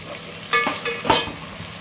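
Onions fry in a pan with a soft sizzle, broken by two brief louder bursts of scraping as they are stirred, close and short with no one talking.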